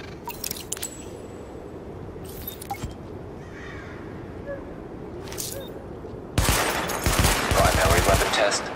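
Gunfire during a weapon test in Tom Clancy's The Division: a few short, sharp bursts separated by quiet gaps, then a loud, sustained stretch of rapid fire near the end.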